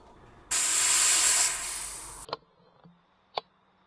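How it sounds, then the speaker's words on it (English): Loud steady hiss of air as a PCP air rifle is refilled from a Shoot Air composite tank, lasting under two seconds and ending abruptly, followed by a few sharp clicks and taps in a quiet outdoor setting. "Quick little air refill. Composite tank from Shoot Air."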